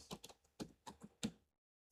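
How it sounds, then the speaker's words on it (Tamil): Typing on a computer keyboard: a short burst of crisp, close keystrokes in an uneven rhythm, a brief pause, then one last tap. "இப்போ நம்ம கூகுள் குரோம்ல பிளிங்கிட் செல்லர்னு டைப் பண்ணிப்போம்."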